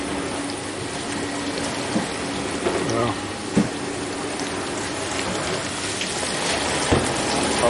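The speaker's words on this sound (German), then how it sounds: "Hat Wasser gezogen, die Pumpe läuft einmal frei" A Vestel VGS 45Y15 dishwasher with an F2 fault, which had not been drawing water, runs in a test cycle, filling with a steady watery hiss while its pump hums, with a brief voice over it.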